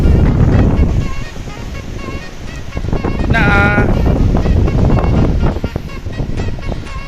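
Strong wind buffets the microphone on a beach at night, a loud continuous roaring rush with surf-like swells, while a person speaks briefly beneath it.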